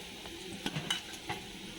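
Whole spices and radhuni tempering fry in hot oil in a pan for Bengali shukto, giving a soft steady sizzle broken by a few quick stirring scrapes and light utensil clicks, with no talking.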